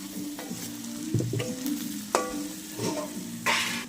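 Steady sizzling of goat fat frying in a pan, with scraping stirs and clinks of a utensil against the pan at several points.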